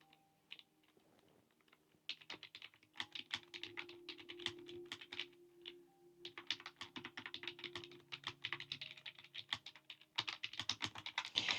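Rapid clicking of keys on a computer keyboard while drafting a document, coming in dense bursts with short pauses, close and fairly quiet, with no one speaking.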